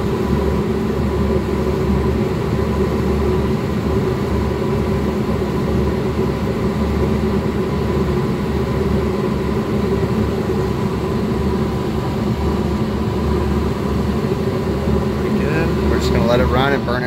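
A Carrier gas furnace with its heat exchanger firing, burning off and smoking after service, produces a steady, loud low rumble and roar that runs the whole time. Speech is faint or absent.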